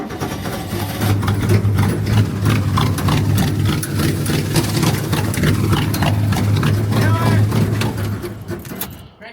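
Old small-block V8 being cranked after a points-to-HEI distributor swap, a steady rhythmic starter churn with engine thumping, fairly loud and close, running through the whole stretch with faint clicks on top.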